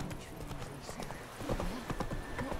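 The horse Roach's hooves clip-clop in an even rhythm on the ground in The Witcher III, close and moderately loud, with a faint whinny and a quiet voice in the background.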